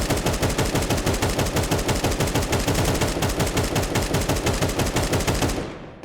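AK rifle tap-fired rapidly in Counter-Strike 2, a loud continuous stream of quick, evenly spaced gunshots close up that stops abruptly near the end, with no voices.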